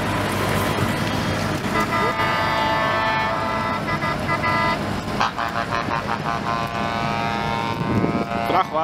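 Horns toot and engines rumble from trucks at a 2019 farmers' protest in Groningen, loud and close, with sustained honking blaring over dense traffic noise and crowd chatter.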